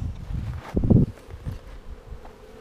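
Honeybees buzzing at a hive during an inspection, a soft steady hum of insects close by with a brief louder swell of buzzing and faint rustling.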